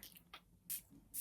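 Three short, sharp hissing bursts from a perfume spray bottle, each a crisp mist release spaced about half a second apart, close up in a quiet room.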